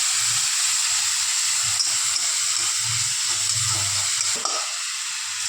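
Onion paste frying in oil, a loud continuous sizzle with occasional stirring sounds, close up and uninterrupted by talk.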